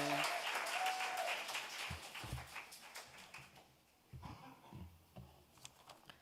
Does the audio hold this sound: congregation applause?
yes